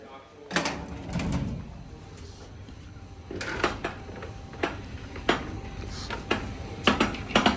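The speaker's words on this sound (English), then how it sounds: "Guess I'll close the door on this side while he's doing the back over there." A Dover hydraulic freight elevator door in a distillery is closed by hand, giving a series of metallic clunks, rattles and bangs that build toward the end, close and loud, with someone talking under the noise.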